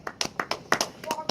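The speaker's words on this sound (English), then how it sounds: "Get a round of applause for him." A few people clap for Sandman in irregular bursts of sharp, close hand claps, with voices mixed in around them.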